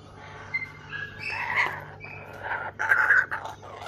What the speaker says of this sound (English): Morning kookaburras. Morning butcher birds.